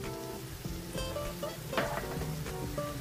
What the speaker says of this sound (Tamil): வளவளப்பு தன்மை போகிற வரைக்கும் வதக்கணும்.